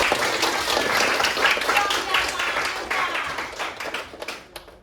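Students in a classroom clap as a group, a short burst of applause that fades into a few scattered claps, with children's voices mixed in.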